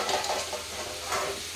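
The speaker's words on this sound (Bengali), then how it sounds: "এদিকে করছি আলু ভাজা" Potatoes fry in a pan with a soft, continuous sizzle, broken by light stirring scrapes, fairly quiet and close, with no talking.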